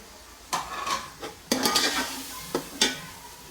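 Tomatoes and two green chilies go into a pot of black chickpea pulao, giving a few soft sizzles, scraping stirs and light clinks of a utensil against the pan, close and fairly quiet with no talking.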